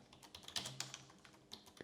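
Quick, uneven keystrokes on a computer keyboard fill the short stretch, soft and close with small bursts of clicks and no voices.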